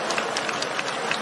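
A church congregation claps hands together during worship, a brief burst of dense, continuous clapping heard close and loud.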